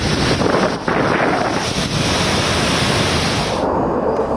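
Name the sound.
strong winds on the coast during Cyclone Tauktae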